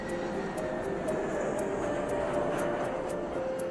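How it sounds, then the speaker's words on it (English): An airplane passing overhead above a 17th-century threshing barn under restoration, a steady, moderately faint engine drone that stays constant throughout with no talking. "that plane going over the top right now"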